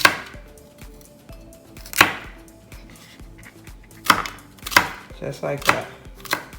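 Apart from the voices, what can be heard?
knife slicing green peppers into bite-sized pieces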